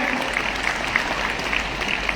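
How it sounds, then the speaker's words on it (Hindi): A seminar audience at a network-marketing company event claps together in a steady, sustained round of applause that fills the hall, with a murmur of voices underneath. "हम सब के लिए एक बार जोरों तालियां हो जाए जबरदस्त"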